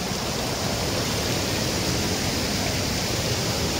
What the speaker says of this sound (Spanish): Aquí se disfruta el correr de la agüita